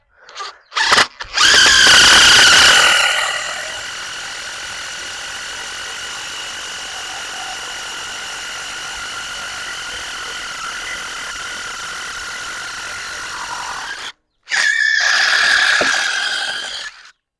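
DeWalt DCF787 impact driver driving a fastener: a loud burst of rapid hammering impacts, then a steady high motor whine held for about ten seconds, and a final short hammering burst, close and with no talk.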